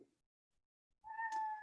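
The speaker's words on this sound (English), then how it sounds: "And if you can hear my cat in the background," A cat meows once in the background, a single faint drawn-out call after a near-silent pause.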